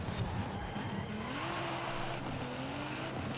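A Nissan car at full throttle in Forza Horizon 5, its engine note climbing steadily as it accelerates with some tire squeal, loud and continuous with no talking.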